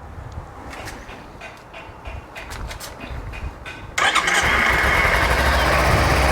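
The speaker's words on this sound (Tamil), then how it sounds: "இப்போ நான் இன்ஜினை ஸ்டார்ட் பண்ணுறேன்" A Bajaj Pulsar motorcycle engine is started: a few seconds of starter cranking, then the engine catches abruptly and settles into a loud, steady idle close by.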